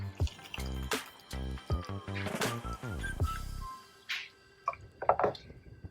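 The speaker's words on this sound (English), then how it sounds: "I'm going to go ahead and add 8 ounces of hot water" Hot water pours over a coffee tea bag in a cup, a rising gurgling fill in a few short bursts, followed by scattered drips and light clinks.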